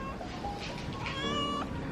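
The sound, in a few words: pet cat meowing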